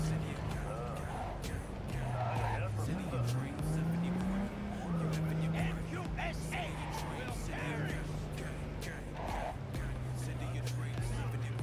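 A car being driven in Cyberpunk 2077 gives a steady engine drone that rises and falls as the car speeds up and slows, with a continuous road rumble underneath. People talk over it the whole time.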